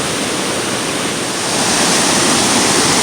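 Class 5/6 river rapids roar as a loud, continuous broadband rush of water, growing slightly stronger midway, close and with no voices.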